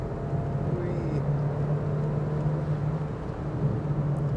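A Peugeot 205 GT engine drones steadily with a continuous low hum after a downshift, rising slightly in pitch as revs build, heard from inside the cabin.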